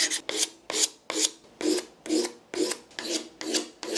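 A hook knife is sharpened against a wooden dowel in nine or ten even rasping strokes, each a loud, close, gritty scrape with a brief pause between, with no voices.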